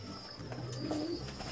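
Pigeons coo softly during a pigeon bath, one low rolling coo standing out over a faint steady background hum.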